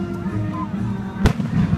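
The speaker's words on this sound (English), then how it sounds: "Oh, but you can see the fireworks already." Fourth of July fireworks rumble as low, continuous booming with one sharp crack standing out midway, moderately close, while faint voices murmur nearby.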